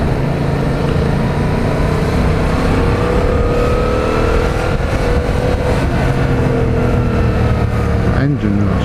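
Yamaha MT-07 motorcycle engine running steadily while riding a bumpy road, a continuous loud drone with wind roar and a brief pitch rise near the end.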